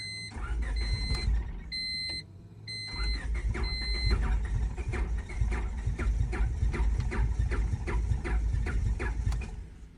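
A worn car engine from a budget eBay build is cranked with plugs in three cylinders. A few electronic chimes come first, then a steady run of rhythmic starter-cranking pulses that never catches.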